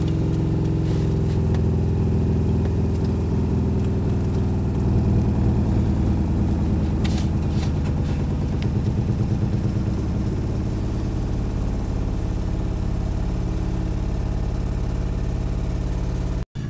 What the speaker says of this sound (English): now turn on your pump, and your system will be pressurizing